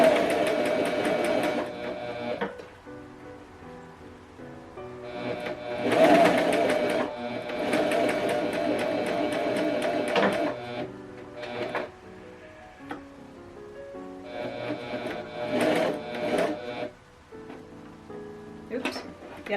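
A Pfaff Coverlock 4.0 machine stitches fabric in several rapid mechanical runs of a few seconds each, separated by short pauses, close and clear with a person talking quietly.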